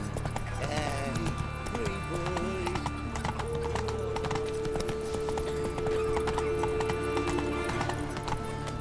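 Roach, a horse in The Witcher 3, trots with rapid rhythmic hoof clip-clops over a bed of game music, and a whinny rises briefly near the start.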